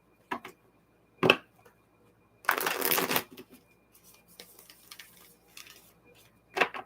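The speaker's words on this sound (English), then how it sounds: "I usually don't shuffle the cards this much" A deck of tarot cards is shuffled by hand in a quiet room, with a few short quiet riffles and one longer burst of shuffling, soft and close, then scattered taps.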